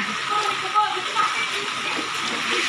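Flood water in Barangay San Pedro, Duero, Bohol, Philippines rushes and splashes nearby in a steady, fairly loud wash, with people talking over it.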